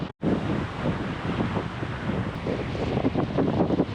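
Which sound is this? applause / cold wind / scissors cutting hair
cold wind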